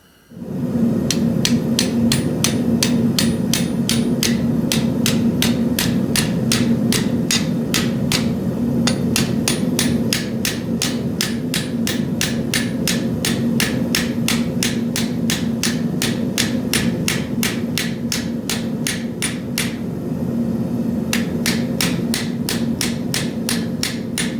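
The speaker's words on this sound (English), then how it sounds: "peen out the end of it so nothing falls apart" A hammer peens the end of a hand-forged flamberge dagger with a wavy blade, striking fast, even, ringing metallic blows close up and loud, almost continuous for over twenty seconds with only a couple of brief pauses.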